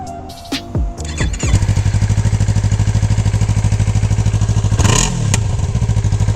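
A Yamaha R3 motorcycle with its muffler removed fires up after a few sputtering pops, then idles with a loud, raw, rapid exhaust chatter close by, with one sharp rev and a backfire near the end.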